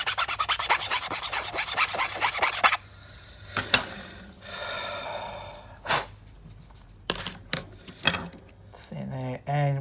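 Rasping sandpaper rubbed across a small plastic model part, used to flatten it before building up layers, in a dense steady burst at first, then shorter scattered strokes with quiet gaps, close up.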